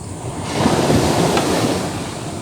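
Sea waves washing onto a beach, a steady rushing surf with a swell of louder breaking water partway through, mixed with wind buffeting the microphone.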